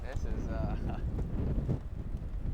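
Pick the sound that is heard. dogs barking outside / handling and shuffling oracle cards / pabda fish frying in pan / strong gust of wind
strong gust of wind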